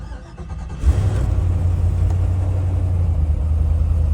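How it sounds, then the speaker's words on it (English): A starter cranks briefly, then a Vortech V8 swapped into a 1986 Land Rover Defender 110 catches and settles into a deep, loud, rumbling idle. "You can hear that Vortech V8 ready to roll"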